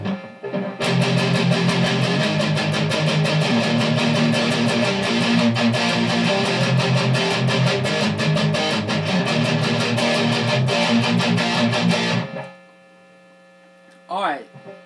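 Loud, heavily distorted electric guitar power chords from the pre-chorus of a song chug in a steady driving rhythm, then stop abruptly, leaving a low amp hum.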